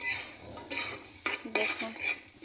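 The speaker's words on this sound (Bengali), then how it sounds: "ভালো করে নেড়ে চেড়ে নিচ্ছি।" A spoon scrapes and clinks against a pan while food is stirred after cumin powder is added, giving a few sharp metallic strokes and scrapes close by with no talking.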